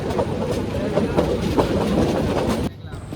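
Bijoy Express passenger train running on rails between Mymensingh and Chittagong, giving a loud, steady rolling rumble with rhythmic clickety-clack wheel beats before the noise drops away sharply near the end.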